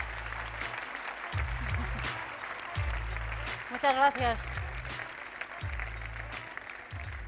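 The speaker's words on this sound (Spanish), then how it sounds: "Un aplauso para la familia y los entrenadores." Audience applause at a sports awards ceremony honoring families and coaches, a steady clapping crowd under amplified speech, with a brief cheer or whistle rising midway and a spoken thank-you near the start.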